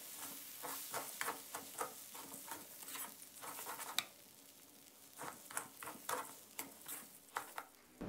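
Rice being stir-fried in a pan with soy sauce, with a spatula scraping and tossing in irregular bursts over a soft sizzle. Close and fairly quiet, with no talking.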